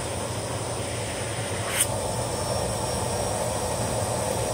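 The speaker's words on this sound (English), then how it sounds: "Sounds like we have some airflow, but what you're hearing is suction." A Miele vacuum cleaner runs steadily with its intake sealed by a suction gauge, giving a constant loud whine and roar with one brief sharp click partway through.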